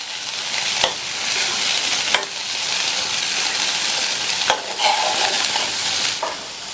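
Boiled mung beans with spices get stirred in a sizzling pan, a steady frying hiss broken by several sharp scrapes and clacks of the spoon against the pan, with no talking.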